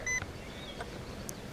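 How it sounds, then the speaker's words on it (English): A drone switched on gives short, high electronic beeps, one near the start and a few fainter ones spaced across a brief, quiet moment with no talking. "Oh, it's beeping."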